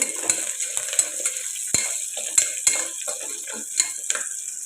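Onions and coarsely crushed garlic frying in a pan: a steady close sizzle with repeated spoon clacks and scrapes against the pan as they are stirred.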